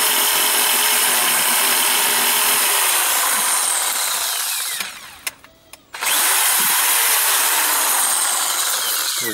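Bosch PSA700E electric reciprocating saw cutting a large piece of wood in half, a loud, continuous buzzing rasp that briefly drops out with a few clicks before the blade resumes.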